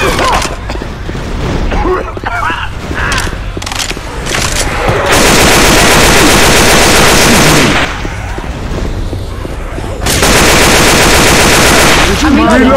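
Heavy automatic gunfire from Left 4 Dead 2's Dead Center atrium finale, loud, sustained bursts with short pauses between them, while players shout over the shooting.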